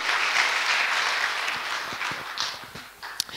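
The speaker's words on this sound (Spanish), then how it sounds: "Dale un aplauso fuerte al Señor" A church congregation applauds during a sermon, a sustained wash of many hands that is moderately distant and gradually thins, with a sharp single clap near the end.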